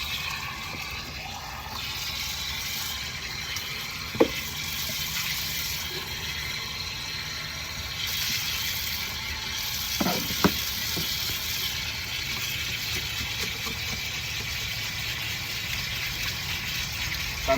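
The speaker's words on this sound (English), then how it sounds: "And then you just run it through some water." Running water pours and splashes steadily at close range as an irrigation filter is rinsed under it, with a few brief knocks and clunks against it.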